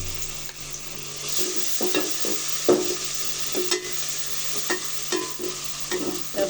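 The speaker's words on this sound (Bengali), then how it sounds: "রসুনটা একটু কাঁচা মশলাটা একটু ভেজে নিলাম তেলে" Garlic paste fries in oil after browned onions, with a steady close sizzle broken by scraping stirs of a spatula against the pan every second or so, for a rohu fish curry with pumpkin bori.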